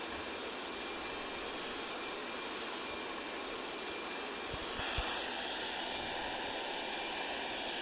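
A Boeing 737 cabin at cruising altitude on a short Seattle hop fills the space with a steady, even broadband engine and airflow roar, and a brief clatter rises near the middle of the stretch.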